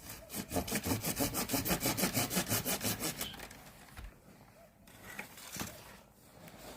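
A hand saw cuts through an apple tree branch during spring pruning, loud rhythmic back-and-forth strokes for about three seconds, then quieter rustling and a few faint knocks as the cut ends.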